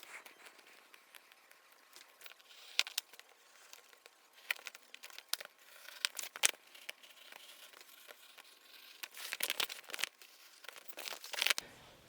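Sound insulation material for an FD RX7 door is cut and handled, giving soft, intermittent crinkling and tearing rustles, quiet and close, with no talking.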